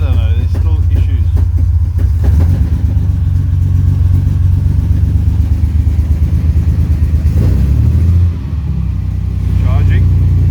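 A 1938 SS Jaguar 3½ Drophead's engine runs loud and close, a steady rumbling idle with light revs and a brief dip near the end, under occasional talk.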